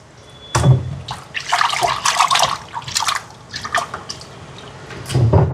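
Cleaned fish for a Jaffna-style fish aviyal get rinsed and washed by hand in water, with close, irregular splashes, drips and sloshing bursts and brief pauses, and nobody speaking.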